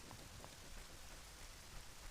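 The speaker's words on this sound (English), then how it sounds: "It's not night. It's just raining." Steady rain falls in Zelda: Ocarina of Time 3D, a soft, even hiss of drops with no breaks, faint and continuous throughout.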